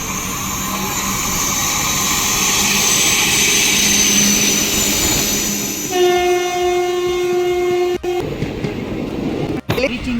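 A passenger train between Udupi and Mangalore sounds its horn, a long sustained blast, while the carriages rumble and roar underneath; sharp clanks follow as the train moves along.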